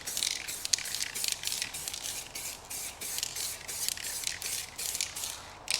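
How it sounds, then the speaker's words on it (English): Spray paint is applied as a dusting coat on a car wheel in a rapid series of short, close hissing bursts, repeated in a quick steady rhythm. "Apply dusting coat just to make like a good bonding contact area for the second coat."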